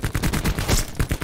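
Rapid gunfire in Call of Duty Black Ops 4 during a Hardpoint match, a quick burst of several sharp, loud shots in fast rhythm within a second.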